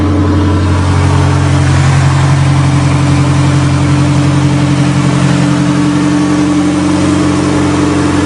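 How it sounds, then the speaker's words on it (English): A turbocharged race wagon engine with a very low-restriction exhaust runs at a steady high idle with a throaty, even rumble, close by and continuous throughout, with no voices. "It's got a very, very low restriction exhaust, so it's running on high idle, and that's what it sounds like"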